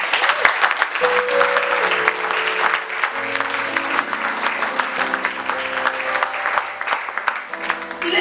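A church congregation applauding and cheering in praise of God, loud sustained clapping from a large crowd with sung or shouted voices and music tones running underneath.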